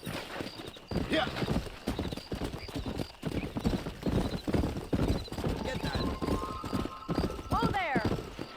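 Horse hooves clip-clop at a fast gallop in the Red Dead Redemption video game, with a horse whinnying and someone talking over the steady, close hoofbeats.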